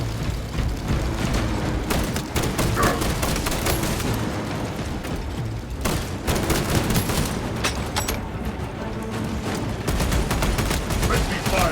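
Rapid gunfire bursts and booming impacts from combat in the video game Warhammer 40k Space Marine 2, loud and continuous throughout, with game voice callouts mixed in.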